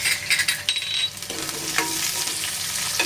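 Chopped onion sautéing in a pan for a spicy dahi tadka makes a close, steady sizzle, with light stirring clatter at the start.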